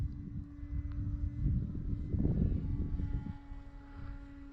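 ParkZone Sport Cub S2 radio-controlled airplane taking off into the wind, its small electric motor and propeller whining and swelling as it passes, faint and at some distance, over light wind noise.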